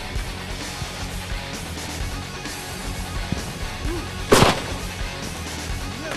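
A single sharp shotgun blast during a Nebraska pheasant hunt, standing out loud and brief from steady outdoor wind and rustling background noise.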